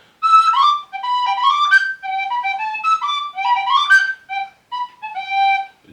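A tin whistle plays a lively, bright melody alone, clear and close, with quick ornamented notes and short pauses between phrases.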